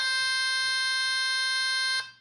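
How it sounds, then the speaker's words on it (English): A single steady electronic beep from a LEGO EV3 robot brick holds a C note for about two seconds, then stops abruptly with a short fading tail. "It makes the C beep sound that we set for 2 seconds."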